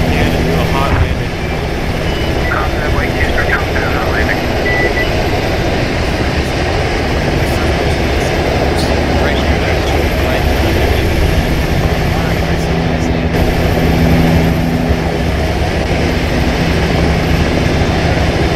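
Helicopter in Arma 3 coming in for a hot landing near a compound: a loud, steady engine and rotor roar fills the whole clip, constant and close with no break.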